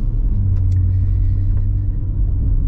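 BMW M140i with M Performance exhaust and a 4.5-inch downpipe driving, a loud steady low rumble heard from inside the cabin at cruise, with no voices.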